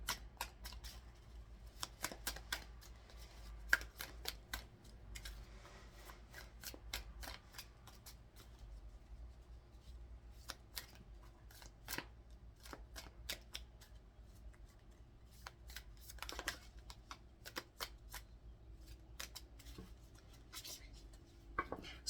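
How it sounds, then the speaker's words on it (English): Tarot cards being shuffled by hand close up at low volume: repeated quick riffling bursts and soft slaps at an irregular rhythm, with quiet rubbing between them and no talking. "We'll go ahead and get a few shuffles here for pile 1"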